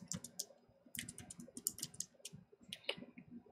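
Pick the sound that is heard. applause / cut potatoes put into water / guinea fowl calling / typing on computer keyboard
typing on computer keyboard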